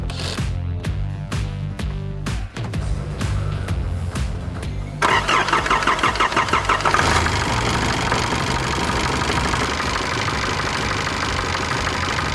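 A diesel 4WD with a dud injector struggles through a cold start: repeated rhythmic cranking pulses, then the engine catches and runs roughly at a loud, rattling idle.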